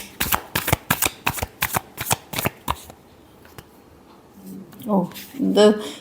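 Tarot cards shuffled by hand, about ten crisp riffling slaps in quick rhythm, close up, followed by a pause and then a voice speaking.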